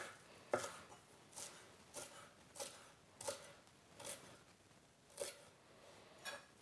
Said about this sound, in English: I'm gonna chop some of that up.